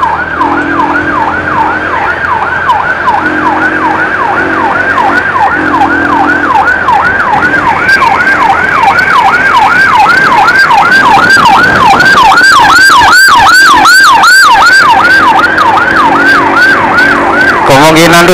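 An ambulance siren wails continuously while being escorted from a regional public hospital in Gambiran, loud and close, cycling in a rapid rising-falling yelp that later switches to a faster pattern, with engine noise underneath.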